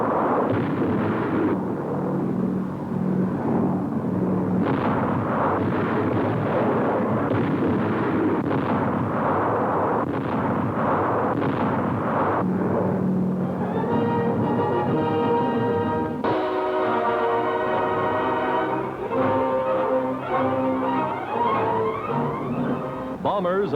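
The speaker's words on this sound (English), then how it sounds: "The bombing of Lae and Salamaua by the Allied forces." Allied aerial bombing of Lae and Salamaua in 1943, carried as continuous rumbling explosions and booms at steady loudness, with narration running over them and a musical score entering partway through.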